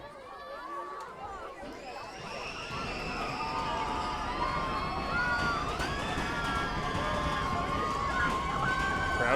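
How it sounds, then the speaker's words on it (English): A crowd at a softball ballpark cheers and calls out, a steady rising swell of voices and shouts with whistle-like tones, fairly close and continuous throughout. "Crowd getting into it."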